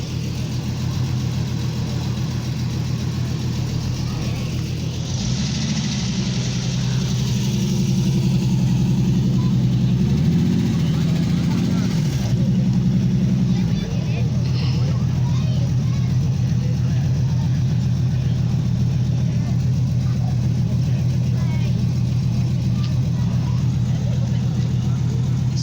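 A TVR Chimera sports car idles at a classic car meet at a country pub, a steady low engine rumble that holds throughout, briefly swelling in the middle, with voices in the background.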